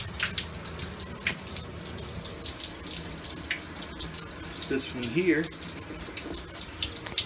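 A hotel shower in Japan runs water in a steady broadband hiss, with a person talking briefly over it and a few small knocks and taps.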